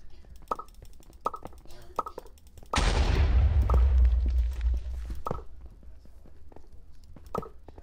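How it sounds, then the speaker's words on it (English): Paintball gun fire in Minecraft's Mineplex One in the Quiver game: a dense burst of sharp shots lasting about two seconds, set among sparse clicks and light taps. "I'm using up my paintballs"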